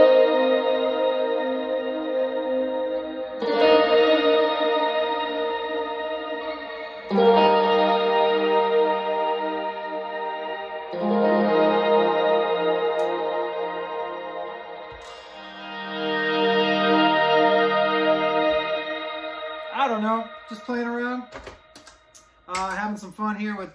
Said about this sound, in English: A little bit of spring with like a shimmer.